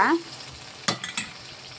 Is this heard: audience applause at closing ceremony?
no